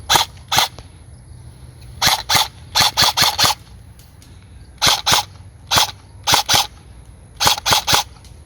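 An E&L AK-74MN airsoft electric gun fires a string of short bursts, each a quick cluster of sharp snapping shots, separated by brief pauses, close and clear with no talk.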